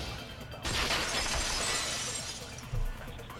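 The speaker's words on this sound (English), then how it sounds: "At the entrance hall, heard the sound of the window shatter." Glass shatters in the Danganronpa 2 video game: a sudden loud crash that sprays into a sustained tinkling of falling shards, with a second low thud near the end.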